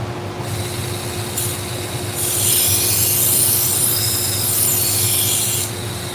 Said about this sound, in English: Hey Barney, this is a Flintstone sharpening machine